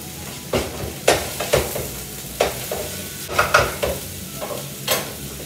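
Paella with saffron being stirred in a pan, heard as a soft background sizzle broken by about a dozen spaced scraping strokes of a utensil against the pan, fairly close, with no speech.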